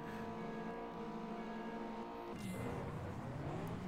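A Honda Type R races in the video game Juiced, its engine holding a steady, strong drone with a sharp shift in tone partway through, continuous and close with no talk.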